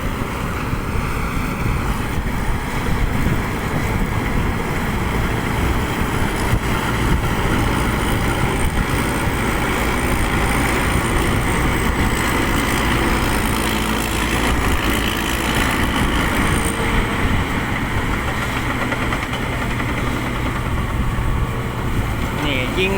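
A rice combine harvester's engine runs steadily and loudly in a continuous drone, with someone talking over it.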